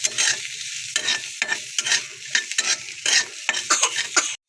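Onion sautéing in butter in a pan until lightly browned, a close sizzle broken by repeated scraping stirs in an irregular rhythm, with no voices.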